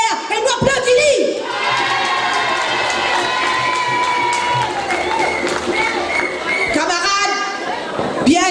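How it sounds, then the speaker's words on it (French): A crowd at a political party delegates' assembly bursts into loud cheering, shouting and applause, with voices chanting and yelling over sustained clapping, close and energetic throughout. "et nous applaudissons"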